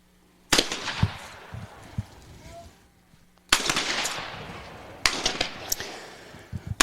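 Shotguns fire at an outdoor trap and skeet range: three sharp, loud reports, each followed by a decaying echo, spaced a couple of seconds apart, with faint voices and movement between shots.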